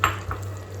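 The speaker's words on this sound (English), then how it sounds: "Give it a whisk." Corn flour slurry whisked into a pan of lemon pepper chicken gravy, a brief near stirring swish with a soft clink at the start, over a steady low hum and faint sizzle.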